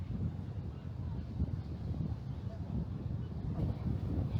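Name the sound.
strong wind blowing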